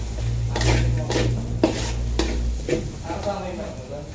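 Chopped onion goes into a pan of browning garlic for ginisang bunga ng malunggay, giving a steady sizzle with several sharp stirring and utensil scrapes against the pan, close and fairly loud, with no talking.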